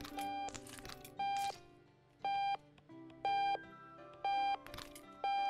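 An alarm clock in Octodad: Dadliest Catch beeps in short, evenly spaced electronic tones, five or six clear pulses over a faint game background.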